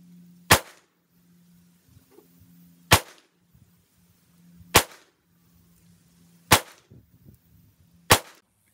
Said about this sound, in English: That's single action. First time you ever fired this gun.